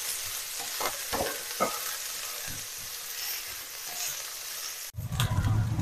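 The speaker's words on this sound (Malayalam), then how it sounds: "നമുക്കിത് നന്നായിട്ടൊന്ന് വഴറ്റി കൊടുക്കാം" A small chopped onion sautés in a pan with a steady hiss of frying, broken by a few spoon scrapes and knocks as it is stirred, and the sizzle grows louder and fuller near the end.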